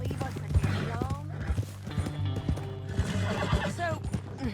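A horse in Red Dead Redemption 2 whinnies several times amid clip-clopping hooves, close and clear, while voices talk over it.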